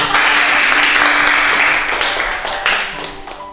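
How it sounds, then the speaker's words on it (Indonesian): Classroom of students applauding a classmate, loud close clapping that runs steadily and then tapers toward the end, with faint voices mixed in. "Tepuk tangan."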